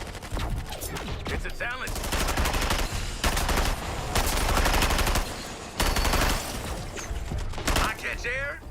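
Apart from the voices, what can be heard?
gunfire from Deadshot shooting in Suicide Squad video game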